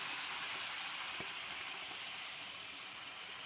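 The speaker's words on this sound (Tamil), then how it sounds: "இப்போ நான் கட் பண்ணி வச்சுருக்கிற தக்காளியை சேர்த்துக்கிறேன்" Chopped tomatoes sizzle steadily in hot oil with frying onions, a dense continuous crackling hiss close by with no one speaking.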